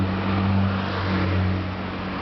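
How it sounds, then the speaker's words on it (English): Steady traffic on a city road, with cars including a Toyota, a Gazelle van, a BMW taxi, a Lada and a Volga: a continuous engine rumble and tire hum, fairly close and loud, with no talk. "there's a Toyota, there's a Gazelle, there's a BMW taxi, a Lada, a Volga, all kinds of cars on the road"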